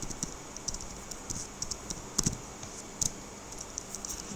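Computer keyboard keys are typed in an uneven run of light, close clicks with brief pauses while code is entered, with no talking.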